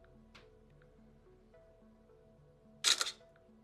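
Samsung Galaxy Note 20 Ultra camera shutter firing once, a short crisp click standing out near the end over a faint electronic hum and soft tones during a phone function test.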